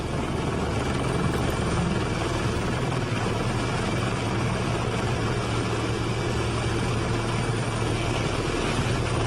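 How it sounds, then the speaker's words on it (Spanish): A presidential helicopter passes close overhead in a steady, loud rotor and engine drone that holds for about nine seconds, with no voices over it. "usando el helicóptero presidencial"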